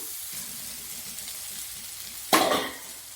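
Onion and garlic sauté gently in a pan, a soft, steady sizzle, then a sudden louder burst of crackling spatter near the end that fades away over a second.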